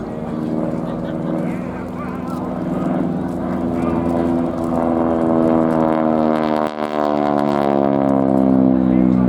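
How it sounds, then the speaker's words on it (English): At an airshow, a Pratt & Whitney R1340 Wasp radial-engined aircraft with a 600-horsepower direct drive propeller makes a loud, continuous droning roar whose tone bends and shifts as it passes. "Interestingly, that's not the sound of the engine. It's a direct drive propeller."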